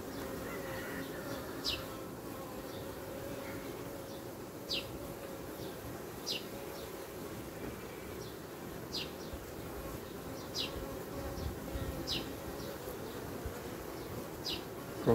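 Honey bees hum softly around hive frames during artificial swarm splitting at an Ursu hive, a continuous low buzzing drone with occasional nearer buzzing passes and faint bird chirps in the background.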